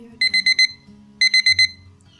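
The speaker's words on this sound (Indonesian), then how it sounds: "Kita tunggu sampai alarm atau timer ini berbunyi." A digital kitchen timer alarm beeps in two quick bursts of four sharp, high-pitched electronic tones, separated by a short pause, loud and close.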